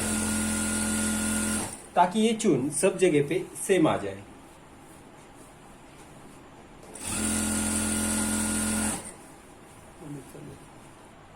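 An electric sewing machine stitches the hem of an ankle-length pant in two steady bursts of rapid, whirring, high-pitched running, each about two seconds long. Someone speaks between and after the bursts.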